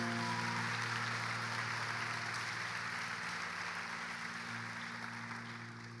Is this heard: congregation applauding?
yes